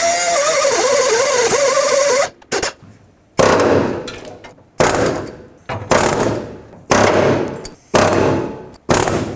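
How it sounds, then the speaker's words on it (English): Air chisel cutting a seized nut off a rear shock on a 1997-2003 Ford F-150, heard as loud rapid pneumatic hammering in several bursts of a second or so, separated by short pauses, after a steady whining tool at the start. "then use my air chisel and chisel the nut off straight back that way"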